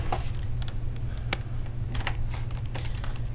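Back panel of an HP All-In-One Omni 120 desktop pried open with a card, giving a series of small plastic clicks and ticks at irregular intervals over a low steady hum, close and quiet.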